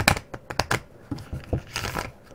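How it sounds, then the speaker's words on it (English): A deck of playing cards being shuffled, with a few quick riffling bursts and soft rustles close by, ending in a longer crisp flutter. "They shuffle pretty good."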